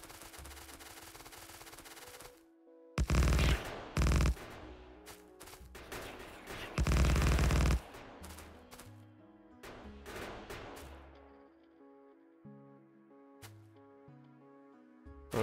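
Automated turrets firing in the video game Factorio, sounding as loud rapid bursts with gaps between them, over a layer of busy in-game machinery and ambient noise.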